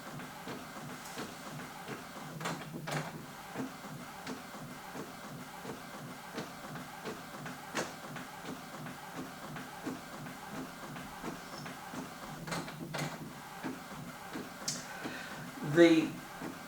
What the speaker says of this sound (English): It'll have no problem in printing. And here it comes out